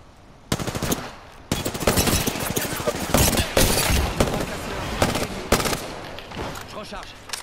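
Sustained automatic gunfire in the Apex Legends video game, rapid rattling bursts of shots nearly filling the stretch with a few short breaks, loud and close.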